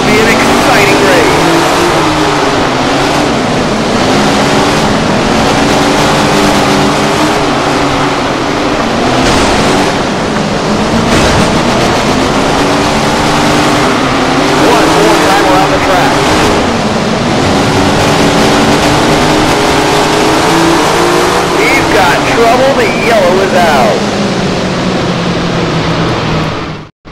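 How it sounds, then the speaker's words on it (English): Loud 410 sprint car engines roaring continuously in the Tony Stewart Sprint Car Racing video game, a rough droning roar rising and falling as the cars roll toward the line. "Listen to those engines roar as they roll to the line"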